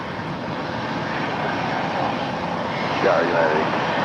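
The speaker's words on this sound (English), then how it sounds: "This is a NetJets flight 152 coming in from Seattle. It's a Global 600," A NetJets Bombardier Global 6000 business jet arrives from Seattle at LAX, a steady broadband engine rush heard at moderate distance beneath ongoing talk.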